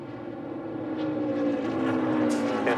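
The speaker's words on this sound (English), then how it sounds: "It sounds like the motor's running DW" A NASCAR stock car engine runs during a race at Rockingham, a steady mechanical drone that swells slightly louder over a couple of seconds, heard through broadcast audio.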